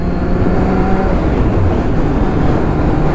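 A 2009 Kawasaki Z 750 motorcycle rides along steadily, its engine a continuous loud drone mixed with heavy wind rush, with no talking.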